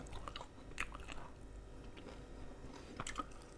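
Crispy fried mackerel head is chewed close to the microphone, giving soft crunchy bites and wet mastication in an irregular rhythm, quiet and without talk.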